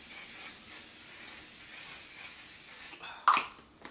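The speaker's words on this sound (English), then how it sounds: "So I'm going to spray with this again." A setting spray misted onto a face during a makeup routine, a steady soft hiss running for about three seconds, then a short sharper burst of spray close by.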